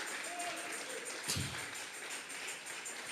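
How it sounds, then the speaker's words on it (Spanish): Faint clapping from a church congregation during a Sunday service, a soft steady patter of many hands heard from a distance with one brief louder knock partway through. "Dele fuerte esas palmas al Dios de la gloria"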